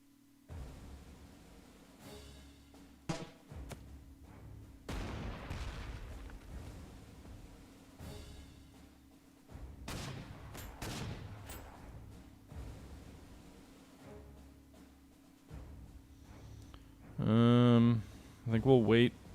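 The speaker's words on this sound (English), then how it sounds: "we'll bomb these guys with artillery" Artillery bombardment in Panzer Corps 2 sounds as repeated deep booming blasts spread over the stretch, mixed with game music, while someone talks throughout.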